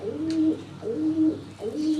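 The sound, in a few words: Rampuri pigeon cooing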